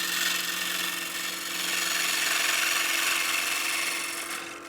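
A freshly sharpened gouge takes a smoothing pass across a spinning wood platter on a lathe, giving a continuous airy scraping hiss over the motor's steady hum, swelling slightly then easing off at the end.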